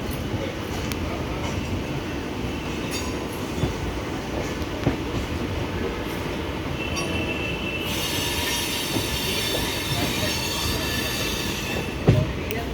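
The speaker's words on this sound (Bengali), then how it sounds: "এটা যেটা এক্সপ্রেসটা পাস হচ্ছে" The Howrah–Kathgodam express train rolls past on the tracks with continuous rumbling wheels, scattered clacks and a rising metallic squeal, with faint voices under it.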